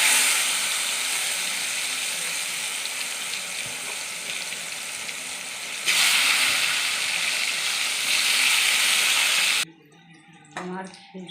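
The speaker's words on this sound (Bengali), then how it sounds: "ওই পাঁপড় ভাজার তেলে আমি বেগুন ভেজে নেব।" Eggplant slices frying in oil previously used for frying papad, a steady close sizzle that grows louder midway, then cuts off near the end, leaving a few faint kitchen noises.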